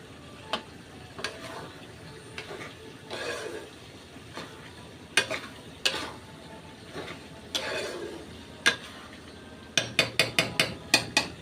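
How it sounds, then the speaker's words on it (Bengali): Beef tripe being stirred and fried in a pot, with scattered scraping and clinking taps of a utensil against the pot over a low sizzle, ending in a quick run of sharp knocks. "দেখো, এখন আমি আবার নেড়ে দেখবো কষানো হয়ে গেছে"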